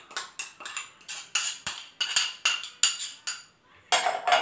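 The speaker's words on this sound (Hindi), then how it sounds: "अब इस दही को हम चिकन के अंदर मिक्स कर देंगे।" Metal spoon clinking against a bowl while mixing yogurt into chicken, a rhythmic series of about a dozen sharp, close taps and scrapes with short gaps between them.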